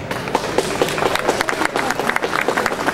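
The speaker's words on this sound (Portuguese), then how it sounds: "Meus senhores, com um grande aplauso, Rui Santos." An audience at a folk singing tribute event bursts into dense, sustained clapping, a crowd of many hands applauding together close and loud without pause.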